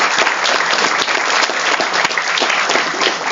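Audience applause at a national-level poster presentation competition: dense, steady clapping from a crowd that stays loud and continuous throughout, with no voices over it.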